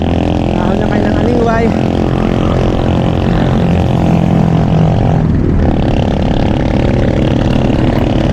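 A loaded tricycle labours uphill with a loud, strained engine drone. It is close by, with traffic noise around it and people talking over it.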